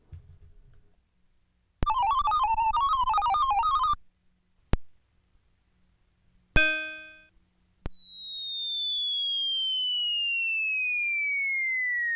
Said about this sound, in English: We've got a selection of 8 different sound effects: alien, bell, bomb, clap, gunfire, pong, ray gun,